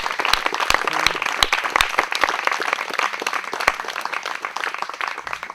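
Audience applause at a live performance: a dense, steady patter of many hands clapping, with a few louder individual claps standing out, lasting throughout.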